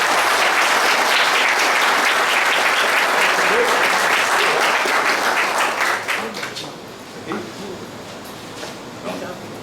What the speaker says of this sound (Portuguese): com a sua esposa, Helena Alves Pinheiro, com uma calorosa salva de palmas.